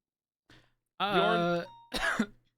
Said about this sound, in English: I'm having a bit of a coughing fit.